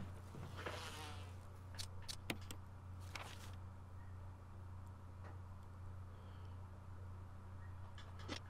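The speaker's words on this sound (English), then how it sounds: "Oh god, there's bees in here." Insects buzz continuously inside a room in the Resident Evil video game, a steady low drone with faint scattered clicks and ticks over a constant background hum, no talking.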